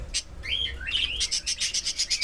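Pet lovebirds, cockatiels and budgerigars, with newly hatched chicks, chirp close by: a couple of rising whistled calls followed by a quick, regular series of sharp tweets.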